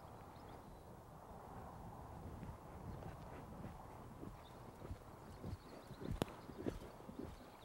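Horse hooves clip-clopping on the ground while walking in tight turns around cavaletti poles during an advanced jumping schooling session, a steady soft rhythm fairly distant and faint.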